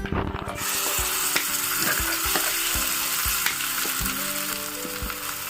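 Loud, crackling sizzle as ground gongura and sesame chutney hits hot tempering oil, with a few sharp knocks and scrapes of stirring throughout.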